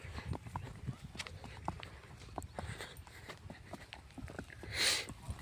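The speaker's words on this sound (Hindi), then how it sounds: "घोड़े को चाल हम लोग ऐसे सिखाते हैं।" A mare's hooves clip-clop in a quick, even rhythm as she is trained in her gait. The steady hoofbeats sound moderately close over constant outdoor background noise.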